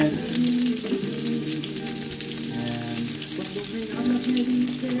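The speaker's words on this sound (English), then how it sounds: "Right now we're going to saute our onions and our garlic and get that going." Onions and garlic sautéing in a pan, a steady close sizzle and crackle of frying that runs unbroken throughout, with occasional faint stirring.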